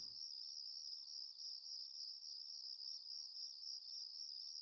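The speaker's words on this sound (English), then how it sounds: "It's actually a pretty impressive cricket sound" Crickets chirping at night in the video game Full Throttle Remastered, a steady, dense, high-pitched trill held continuously without pause, soft and even in level, with no voices over it.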